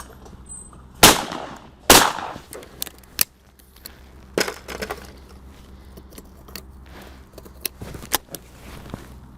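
Shotgun shots fired at clay targets on an outdoor range: a few sharp, loud blasts spaced a second or more apart, followed by quieter clicks and handling noises, with no talking.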